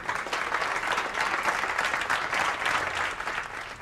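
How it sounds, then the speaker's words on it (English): Hotel staff at a British hotel break into sustained applause, steady and dense clapping from a sizable group filling the whole stretch without pause, with no talk over it. "a round of applause and thank you to everybody"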